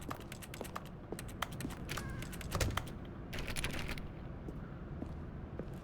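Rapid keyboard typing stands in for a character's voice in The Stanley Parable video game, a quick irregular run of clicky keystrokes in bursts, close and clear over a quiet background hum.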